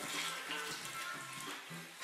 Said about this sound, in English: Sure are going to add a little bit more water.